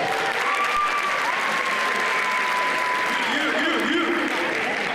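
A crowd applauding steadily with dense, continuous clapping, and a few cheers and voices rising through the noise.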